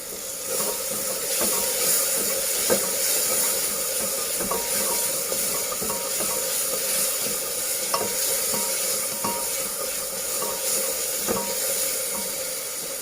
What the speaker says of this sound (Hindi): अब उसको हम अच्छे से इससे मिक्स करेंगे।